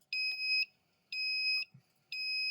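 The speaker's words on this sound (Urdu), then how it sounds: "یہ الارم پہ اب میں کیا کروں، ہمارے سولر پینل کی بیٹری لو ہو گئی ہے" A solar panel battery low alarm sends out three evenly spaced pairs of sharp, high electronic beeps about a second apart, fairly faint, with quiet gaps between them and no talking.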